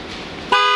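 A Ford Taurus gives a single short, loud horn chirp as it locks by remote, sharp and close after a moment of low background noise.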